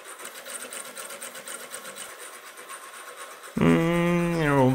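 A homemade Lego motor driven at 120 volts in direct drive whirs with a steady, buzzy mechanical hum, then jumps abruptly into a loud rising whine as it spins up near the end.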